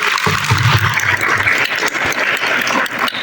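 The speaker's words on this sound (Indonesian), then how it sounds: "marilah kita berikan aplaus kepada abang-abang dan kakak-kakak kita yang telah hadir pada saat ini" An audience applauds at a student gathering commemorating the Prophet Muhammad's birthday (Maulid Nabi) in Bukittinggi, with steady, dense clapping that carries on without a break.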